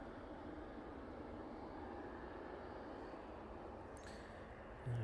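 An airliner climbing out after takeoff from East Midlands Airport, a faint, distant broadband roar holding steady throughout, with a brief thump near the end.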